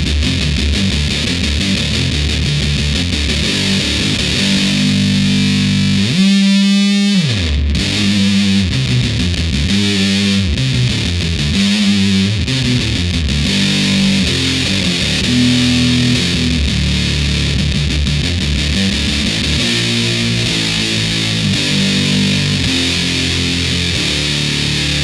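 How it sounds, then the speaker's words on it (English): Electric guitar played through a Big Muff fuzz distortion pedal, loud and thick with sustained fuzzy chords, a sharp pick slide near the start and ringing notes throughout, no voices. "here's the big muff with similar settings"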